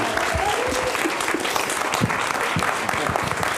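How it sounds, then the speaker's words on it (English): An audience applauds guest Jamie Bartlett at the close of a talk, a steady wash of many hands clapping with a few sharper nearby claps standing out. "A round of applause for national treasure, Jamie Bartlett."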